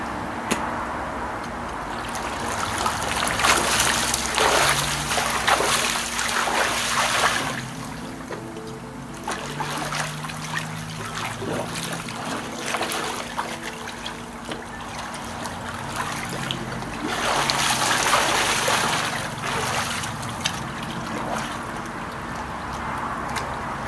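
A swimmer doing the crawl in a pool with a dive knife, water churning and splashing in continuous waves that swell and fade, close and fairly loud, with no talking.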